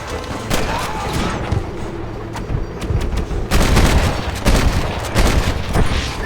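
Gunfire in Red Dead Redemption, a dense shootout of rapid, overlapping cracking shots from several guns, some near and loud, others more distant, continuing throughout the clip.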